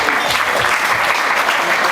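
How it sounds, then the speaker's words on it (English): Dense, loud applause from an audience at a Cook Islands dance show, a continuous wash of clapping held at full strength for the whole brief moment. "Please, a big round of applause for our Cook Islands families and friends"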